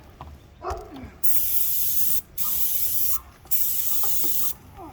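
A paint sprayer with a small 411 tip hisses in three sharp, sustained bursts of about a second each, separated by brief pauses with faint clinks nearby.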